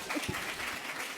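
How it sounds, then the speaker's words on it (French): A live audience claps briefly at a French conference on freelancing, a short burst of diffuse applause from the room at moderate level. "Applaudissez-moi."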